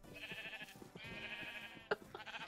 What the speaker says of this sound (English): Oh yeah, I forgot I changed Zen's room into a sheep room